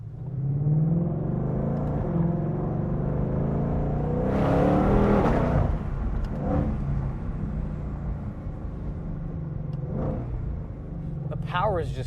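A 2022 Shelby GT500 engine revs and accelerates hard inside a tunnel, a loud, sustained, echoing roar that swells midway, with a person talking over it throughout.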